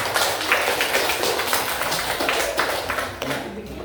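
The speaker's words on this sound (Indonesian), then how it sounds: "tepuk tangan untuk kita semua" Students in a school classroom guidance session clap together after a tower-building game, giving a brisk, continuous burst of hand claps at close range with no talking.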